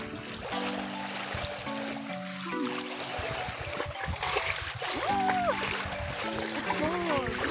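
Water splashes and sloshes steadily as someone wades into the sea off an island beach, with a voice talking over the watery movement throughout.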